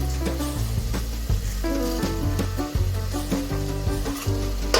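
Rice frying in a pan with salt and sugar, stirred vigorously: continuous close sizzle broken by repeated scraping strokes and spatula knocks against the pan.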